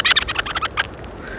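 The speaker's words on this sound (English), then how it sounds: "Wild bird." A wild bird, held close on someone's finger, lets out a rapid run of harsh, scratchy chirps that thin out and fade within a second or so, with nothing else going on.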